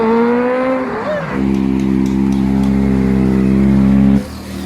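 A loud Kawasaki ZX25R motorcycle with an aftermarket exhaust revs, climbs, then settles into a steady deep throaty drone close by before cutting off abruptly.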